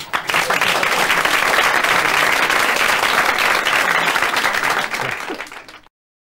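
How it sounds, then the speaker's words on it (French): A French radio studio audience claps for a guest: a full, dense burst of applause that holds steady for several seconds, then fades and cuts off abruptly near the end. "Je vous demande d'applaudir Paul Gutt."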